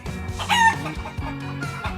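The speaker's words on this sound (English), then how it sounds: "This is a rooster. Roosters wake us up in the morning." A rooster crows once in a loud, clear cock-a-doodle-doo near the start, set over a steady, soft musical backing that runs throughout.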